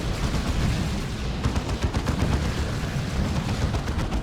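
Gunfire in the real-time strategy game Dawn of War 2: Retribution, a dense, continuous barrage of shots and blasts that runs loud and unbroken throughout, with no voices.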